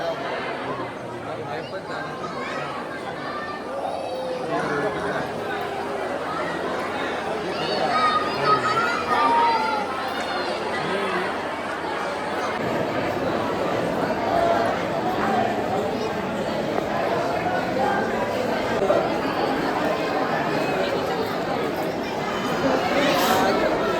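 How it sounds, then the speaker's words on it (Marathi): Morning crowd chatter fills the temple premises in Akkalkot, a steady murmur of many voices with footsteps and occasional clip-clop, moderately loud and continuous throughout. "सकाळी सकाळी पण बऱ्यापैकी गर्दी आहे"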